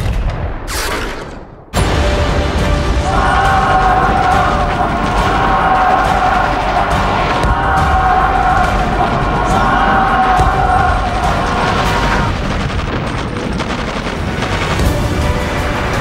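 Battle reenactment of Vietnamese army artillery opening fire on the Him Lam stronghold, with dense, continuous gunfire, booms and explosions filling the scene loudly and without pause, after a brief quieter opening.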